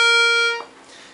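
A Hohner Anacleto Rey del Norte compact button accordion in Fa-Sol tuning, freshly fitted with new reeds, holds one bright, reedy note on its clarinet register for about half a second, then falls quiet.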